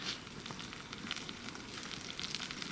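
Zucchini frying in oil on an outdoor grill, a steady crackling sizzle with small pops throughout.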